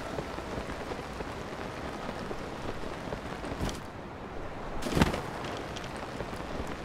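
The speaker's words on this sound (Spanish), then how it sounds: "Esta lluvia fuerte" Heavy rain pours in the video game Zelda: Tears of the Kingdom, a loud, continuous hiss with a couple of brief low rumbles partway through.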